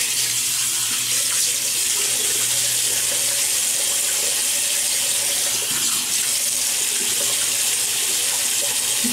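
A tap runs steadily into a sink, loud and close, as water is splashed on the face before shaving, a constant hissing flow with faint splashes and no voices.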